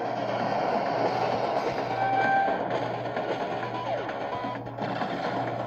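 Rumbling mechanized train from an animated show, built from scrap parts of defeated villains, with a steady low mechanical drone, faint clicking and brief whistle-like tones, loud and continuous throughout.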